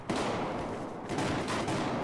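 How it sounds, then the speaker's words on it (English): Dense, sustained gunfire from a Battlefield 4 multiplayer match on PS4: a fairly loud, continuous stream of overlapping shots and bursts with no pauses and no talking. "Alright, so it looks like there's some gunfire going down over the left side here."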